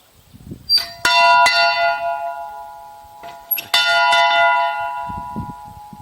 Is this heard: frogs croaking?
no